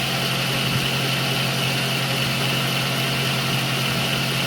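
Milling machine cutter taking a heavier cut in a workpiece clamped in a Wilton 3-axis vise, a steady loud continuous machining drone with a constant hum, close and unbroken throughout.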